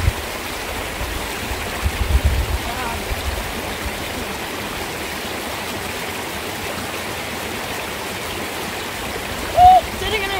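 River water rushes steadily around someone sitting in it, a continuous close broadband flow, with a brief voice near the end.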